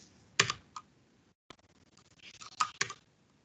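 Keys clack on a computer keyboard: a few sharp isolated presses, a brief pause, then a quicker cluster of taps, close and clear with no voice.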